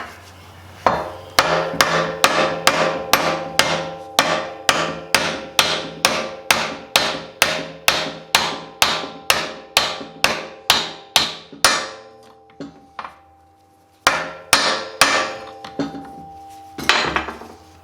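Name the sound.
hammer tapping a socket onto a bearing's inner race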